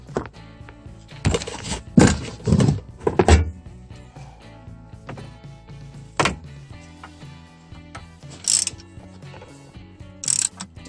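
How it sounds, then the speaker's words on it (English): Bolts on a Toyota Echo transmission are tightened with a ratchet wrench, giving bursts of rapid clicking and metallic clanks between pauses, close and with no talk. "start temporarily tightening the upper bolts, then move down to the bottom bolts"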